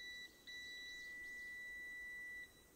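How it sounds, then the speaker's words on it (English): A multimeter continuity-test beep while probing hardware wiring: a steady electronic tone that sounds continuously, breaks off briefly near the start, then holds for about two seconds before stopping, clear and close with no talk. "It's working. Okay, it beeps."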